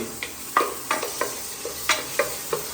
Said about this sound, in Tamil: இந்த உள்ளி பார்த்தீங்கன்னா அப்படி வளைஞ்சு போகிறது வரைக்கும் நம்ம வந்து கிண்டிகிட்டே இருக்கணும்